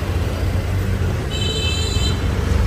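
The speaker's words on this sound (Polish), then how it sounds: "Ale cały czas klaksony wszędzie." Street traffic in India with a steady engine and road rumble throughout, and a short, bright car horn toot about midway over the constant traffic noise.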